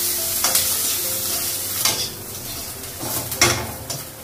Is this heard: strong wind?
no